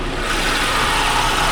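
A Chevrolet Beretta Z26 with its Quad 4 engine runs close by, a steady, loud mechanical drone without pauses or other sounds.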